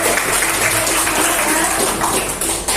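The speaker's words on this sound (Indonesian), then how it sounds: "tepuk tangan dulu buat kita semua" Classroom of students applauding together, a loud, dense and continuous burst of clapping that fills the room with no pauses.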